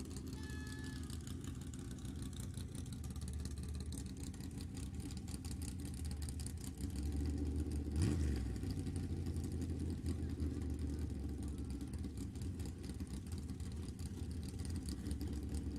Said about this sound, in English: sounds like race car's firing up to me